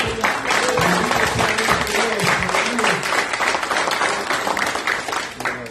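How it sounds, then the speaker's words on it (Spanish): A church congregation breaks into loud, sustained applause at a Saturday worship service, dense clapping filling the room with music or voices faintly underneath throughout. "Podemos dar un fuerte aplauso al Señor"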